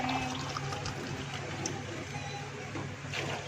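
Water pours steadily into a pot of soaked rice for beef pulao, a continuous close splashing gush that holds at an even level for several seconds with no talking.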